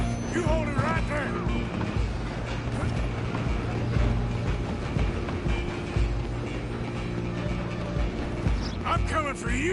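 A steam train rumbles along continuously in Red Dead Redemption 2, a heavy low chugging bed mixed with game action noise and voices talking over it.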